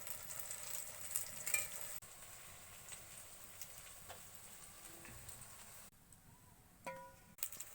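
Drumstick flower fritters frying in oil, a faint, low sizzle with soft clicks and occasional utensil taps, quiet and without speech.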